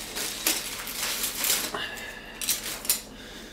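Disposable cutlery used as a mixing stick for a two-part hardener and base mix taps and clicks against a container, with scattered light knocks over quiet room noise and a bit of speech.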